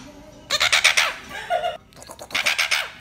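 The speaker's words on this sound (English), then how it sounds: "this bird is the most dangerous bird in the world." A bird, presented as the most dangerous bird in the world, gives loud, close, gobbling fowl-like calls in two rapid pulsing bursts separated by a short pause.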